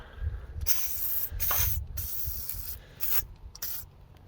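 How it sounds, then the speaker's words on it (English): Several short hissing bursts of penetrating oil sprayed from an aerosol can onto a no-till drill, close by, separated by brief pauses, over a low rumbling background. "Just need to take it out and spray some stuff on it."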